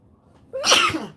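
One loud sneeze bursts out after a brief quiet moment, close by and explosive.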